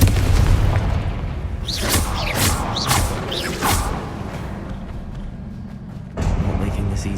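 Confringo blasting spell in Hogwarts Legacy during a boss fight: loud booming, rumbling blasts with whooshing sweeps and creaks, a dip into quieter rumble, then another heavy surge; a voice speaks partway through.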